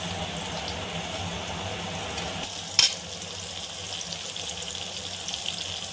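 Onions frying in a pan, a steady close sizzling hiss with a brief clatter of stirring in the middle, no talking.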